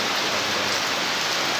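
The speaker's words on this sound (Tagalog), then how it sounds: "malakas po yung ulan" Heavy rain pours in a dense, unbroken hiss, loud and close, a steady wash of drops with no voices over it.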